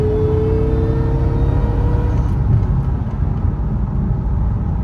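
Dodge Charger R/T with a 3.0 Whipple supercharger pulling at half throttle: a loud, steady engine drone with a rising supercharger whine that eases off partway through, with no voices.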